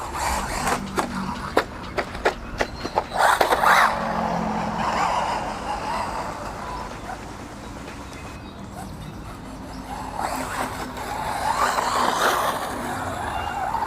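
Budget RC car running a 3S LiPo battery across rough, uneven ground: sharp clicks and knocks, then two surges of whining motor and gritty tyre noise, the first near four seconds and a longer one near the end.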